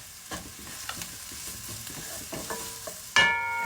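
Ginger sautés in a pan with soft sizzling and repeated stirring scrapes, then a sudden louder hiss near the end as more goes into the hot pan.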